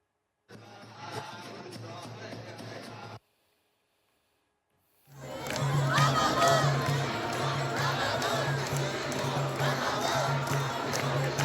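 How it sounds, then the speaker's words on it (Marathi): Large crowd of devotees at the Shirdi Sai Baba temple, a dense, steady roar of many voices that cuts out briefly and then returns louder and fuller. "शिर्डी साई भक्तांनी गजबजली आहे। साईंच्या गजरानं शिर्डी दुमदुमून गेली आहे।"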